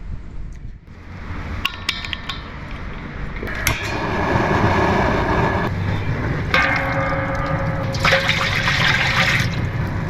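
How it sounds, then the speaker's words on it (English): Water pouring into apple cider vinegar for a brine, a steady, fairly loud splashing fill that swells and rushes harder in a few bursts. "We're using the apple cider vinegar, and we're gonna add some water."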